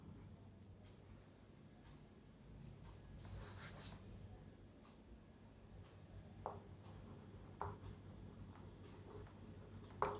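Marker or chalk writing notes on a board in a classroom, soft scratchy strokes in short bursts, faint and close, over a quiet room hum.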